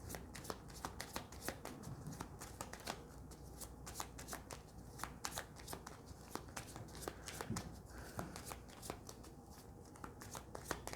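Petit Lenormand fortune-telling cards are shuffled and handled at close range, with a continuous papery riffling and a rapid run of soft slaps and flicks throughout.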